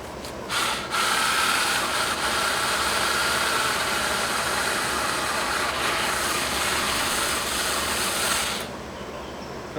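A Tingmengte mini chainsaw runs loud and close, a steady buzzing whine held for several seconds before cutting off near the end, with no speech.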